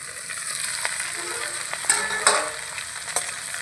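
Vegetables sizzle steadily in a hot pan while a spoon stirs them, with a few sharp scraping clicks over the constant frying hiss; close and alone, no voices.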